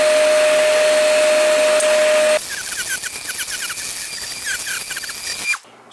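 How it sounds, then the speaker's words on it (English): A power drill boring holes into a carbon fiber motor mount for an RC aircraft, a steady loud motor whine with a high squeal, then a changed rougher pitch with rapid chattering as the bit cuts, stopping abruptly at the end. "Let's make the holes on it."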